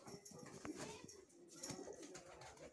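Soft, low pigeon coos with faint rustling and scuffling nearby as two pigeons fight, heard quietly over a steady background hum.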